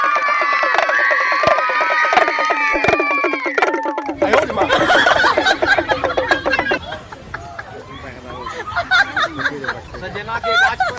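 An excited village crowd at a rustic snake-charmer comedy show erupts in loud shouting and cheering, with bursts of clapping-like noise, children's cries and a babble of voices, plus someone speaking over the din.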